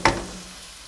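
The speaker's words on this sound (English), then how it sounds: "I'll just leave the onions for 2 minutes until they soften a bit" Onions fry in a pan with a brief bright sizzle burst that settles quickly into a steady, soft hiss, close and alone without any voices.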